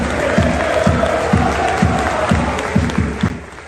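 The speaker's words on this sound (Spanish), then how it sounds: "la organización decidió hacer en este partido un minuto de aplausos a la reina" Celtic Glasgow football supporters in a stadium give a minute of applause for the Queen, a dense crowd clapping wash with periodic low thumping swells, steady and continuous throughout.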